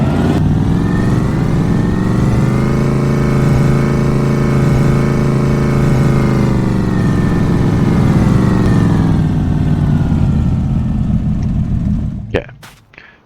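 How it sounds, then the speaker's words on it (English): A tractor engine idles steadily as it warms up in Farming Simulator 25, a loud continuous low rumble holding for about twelve seconds before it quickly fades away near the end. "I'll let the tractor warm up."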